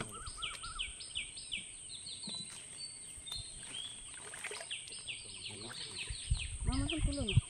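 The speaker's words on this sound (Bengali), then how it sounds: "বিভিন্ন প্রজাতির পাখির ডাক এই সকালবেলা শোনা যায়" Assorted birds chirp and call in the morning along a small creek in the Sundarbans mangrove forest, with repeated high twittering phrases overlapping at moderate distance above a low background, followed by a louder, rougher stir near the end.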